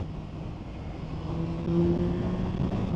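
A Yamaha MT-09 Y-AMT motorcycle's airbox intake drones low and steady from the rider's position, swelling slightly as the engine note rises midway.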